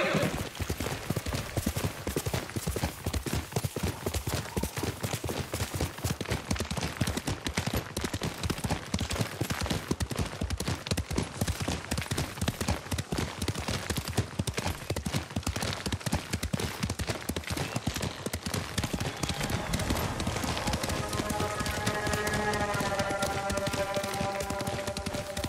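Horse hooves gallop across terrain in the video game Ghost of Tsushima, a fast, steady clip-clop that runs continuously and close up for the whole stretch, with a whinny or brief voice near the end.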